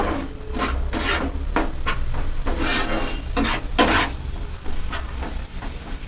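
Spice paste with a little water stirred in a pan for a salted fish curry with raw tomatoes, giving repeated scraping strokes and rubbing over a constant low sizzle, close by.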